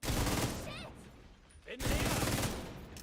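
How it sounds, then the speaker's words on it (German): Enemy fire in The Division 2 rattles as fast loud bursts at the start and again after a brief lull, with game sounds mixed in. "Er sieht mich noch gar nicht und schießt schon."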